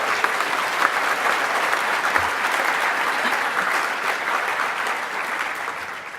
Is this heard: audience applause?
yes